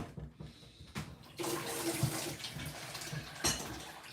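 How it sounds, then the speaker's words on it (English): Tap water runs from a faucet, a steady close splashing rush that starts after a few faint knocks and continues to the end. "use tap water. The only reason why I'm using it right now"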